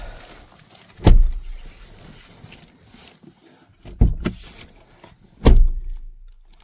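Heavy thuds from a Mahindra Thar being shut up at night in a dense forest, one bang, then a double thump and a final solid slam, with faint rustling between; no speech.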